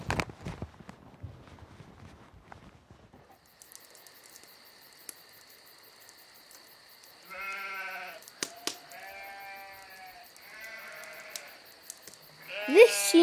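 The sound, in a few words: children imitating sheep bleating in a school Christmas play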